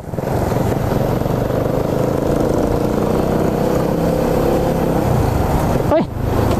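Dense motor traffic on a road on the way to Zamboanga City, with many motorcycles and cars droning loudly and steadily throughout, and a brief whoosh of a nearby vehicle passing close near the end.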